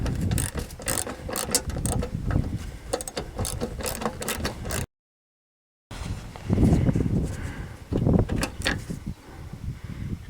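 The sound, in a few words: ratchet removing 7mm bolts from Chevy HHR headlight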